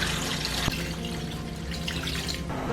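Water poured into a cooking pot for Jeolla-style perilla duck soup, a steady continuous splashing pour that runs close and fairly loud for the whole stretch, with no talking.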